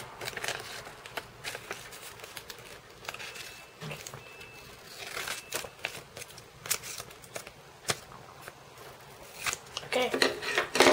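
Scissors snip through paper scraps while a paper cube is being made, giving short crisp cuts scattered irregularly across the stretch, close and fairly quiet, with a rustling burst of handled paper near the end.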